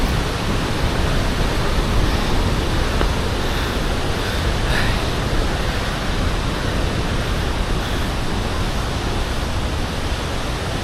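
Waterfall in forested highland on the Bolaven Plateau, a steady dense roar of rushing water filling the whole clip, loud and continuous with no talking.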